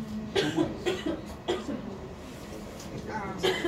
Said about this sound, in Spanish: tos, eso era tos.